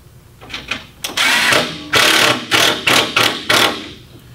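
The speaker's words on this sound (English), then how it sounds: "Utilizing a drywall gun, high RPM, it chucks out." A high-RPM drywall screw gun drives screws into roofing trim, six quick whirring bursts that follow one another closely and sound loud and near, with no talking.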